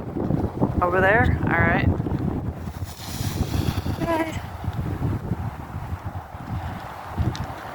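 Big waves rolling onto the Lake Superior shore, heard as a steady wash under heavy wind buffeting the microphone, with people talking briefly nearby over the surf.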